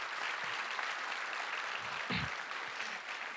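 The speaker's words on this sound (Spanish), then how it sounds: "Dale un fuerte aplauso" Applause from a church congregation during a Christian sermon, a steady wash of clapping that holds for the whole stretch, with a brief low thump partway through.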